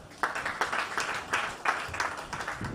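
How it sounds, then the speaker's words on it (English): A crowd applauds, scattered claps mixing into steady clapping that continues throughout, moderately loud with a few sharper individual claps standing out. "I want you to applaud Commander Idris"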